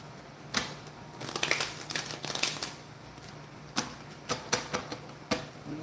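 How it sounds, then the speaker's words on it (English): An old, worn, slightly beat-up deck of playing cards being shuffled up close, a long riffling rush followed by several short sharp flicks and taps. "I'm gonna shuffle one more time."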